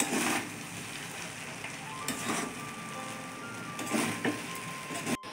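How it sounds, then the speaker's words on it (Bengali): Egg with fried vegetables, ghee, salt and sugar being stirred in a frying pan, a continuous hissing sizzle with scraping strokes that swell and fade, ending with a brief knock. "চলো এগটাকে একটু নাড়াচাড়া করে নিই, তারপরে নাড়িয়ে দেবো।"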